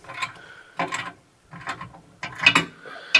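Torque wrench tightening an engine mount bolt while a 5.3L LS goes into a 1967 Chevelle, heard as bursts of mechanical ratcheting clicks in four uneven groups, close and moderately loud, with no talk.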